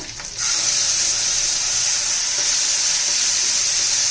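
Onion and coconut paste sautés in hot oil for a mixed vegetable bhaji, a loud, steady, close hiss of frying that starts abruptly after a brief quieter moment and holds evenly, with no talk.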